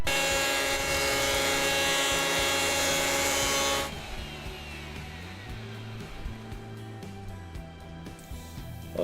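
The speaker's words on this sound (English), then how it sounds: "So I'll put it through the thicknesser," A wood thicknesser planes Meranti pallet wood outdoors in strong wind. A loud, steady machine whine runs for about four seconds, then drops to a quieter rumble with scattered knocks and wind noise.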